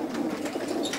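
Racing pigeons being loaded into baskets coo softly in a low, murmuring burble, a steady close chorus with no talking.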